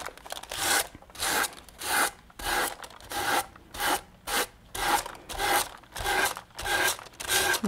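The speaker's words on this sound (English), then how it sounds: "I have this old sanding block, and I just use this to clean these edges" An old sanding block rubs the edges of a wooden board in about a dozen even, rhythmic rasping strokes, close and fairly loud, with no talk.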